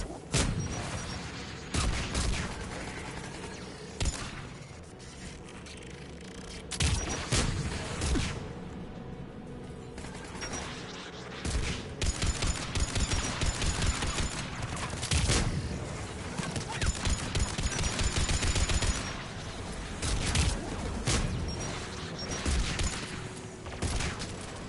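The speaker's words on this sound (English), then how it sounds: "Let's go shut that AA gun off." Anti-aircraft gun fire in the game Mass Effect, heavy repeated booming shots and rapid bursts running through a busy battle soundscape, with faint voices now and then.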